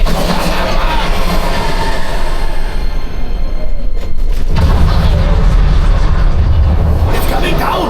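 A train on the Millennium Falcon: Smugglers Run ride at Galaxy's Edge rumbles loudly and continuously with heavy low-end roar and metallic rattling, close and intense throughout.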